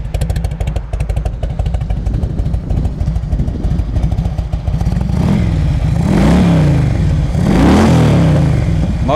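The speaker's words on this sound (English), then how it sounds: "Motor sounds good." A carbureted Harley-Davidson Road King FLHR motorcycle engine idles with a loud, steady lumpy rumble, then revs twice in rising and falling bursts.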